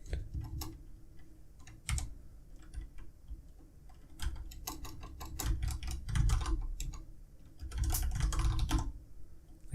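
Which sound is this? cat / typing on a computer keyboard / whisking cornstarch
typing on a computer keyboard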